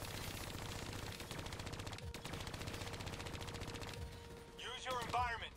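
Rapid automatic turret gunfire in Call of Duty Black Ops 3, a dense, sustained stream of shots with a brief break, then layered under game music and a speaking voice toward the end.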